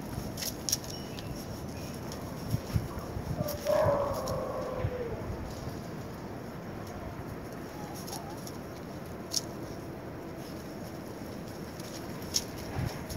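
Seven-week-old puppies give scattered faint yips, small barks and whimpers over a soft outdoor background, with occasional birdsong nearby.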